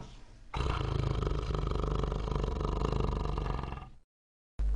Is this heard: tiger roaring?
yes